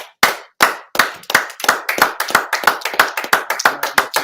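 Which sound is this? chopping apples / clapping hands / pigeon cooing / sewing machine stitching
clapping hands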